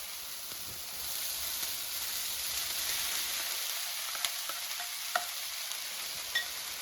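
Cooked rice is stir-fried in a pan with soft caramelized mango, giving a steady, fairly quiet hissing sizzle with a few faint clicks of a utensil toward the end.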